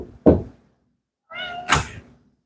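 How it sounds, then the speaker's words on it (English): A house cat meows once clearly and close, a short harmonic call, with a soft thunk like a door or knock just before it in an otherwise quiet room. "I was letting my cat in my kid's room"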